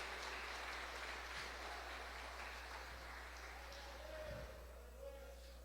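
A Portuguese-speaking church congregation claps for Jesus during a service, a low, distant patter of many hands over a steady hum, with murmuring voices mixed in.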